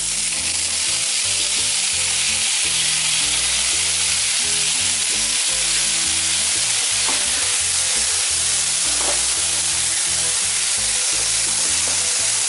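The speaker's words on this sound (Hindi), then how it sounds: "अब इसमें राइस नूडल्स भी डालेंगे। और अच्छे से तेज आंच पर जलाते हुए पकाएंगे।" Green onions and a prepared sauce stir-fry over high heat for rice stick noodles, giving a loud, constant hiss of sizzling with steady stirring underneath and no pauses.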